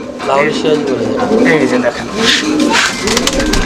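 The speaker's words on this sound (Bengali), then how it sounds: "এখানে আরো এক জোড়া কবুতর আছে এটা লাহোরি" Red Lahori pigeons coo in soft, repeated rounded calls, close by, with people talking over them throughout.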